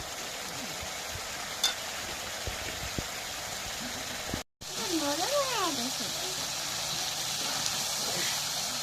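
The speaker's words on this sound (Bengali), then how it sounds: "মশলাটা তেলে ভাজলাম, ভাজা হয়েছে।" Spice paste sizzles and is stirred in hot oil, a steady fry under occasional scraping, with a brief dropout midway.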